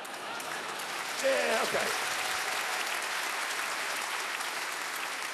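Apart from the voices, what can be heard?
moderate audience applause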